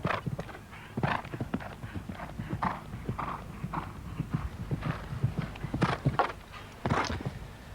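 Horse hooves at a show jumping World Cup qualifier in Busselton, clip-clopping in a quick uneven rhythm across the course, fairly near and steady, with occasional heavier thuds.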